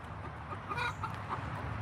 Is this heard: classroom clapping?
no